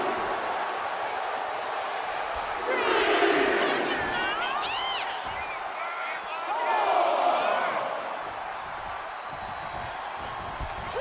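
Arena crowd in the WWE 2K25 wrestling video game cheers and roars in swells around the midpoint and again later, with whistle-like shrieks rising over steady broadband crowd noise.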